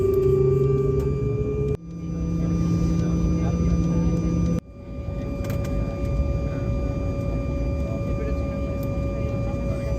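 Whining turbine hum and steady engine roar from a Conviasa airliner, with MD-80s lined up nearby, leaving the gate; tonal drones shift abruptly twice as the engines change pitch, heard from inside the cabin.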